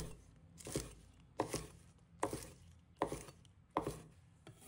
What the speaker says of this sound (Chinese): 准备1块生姜，把它切成姜丝。 2根小葱，切成小段。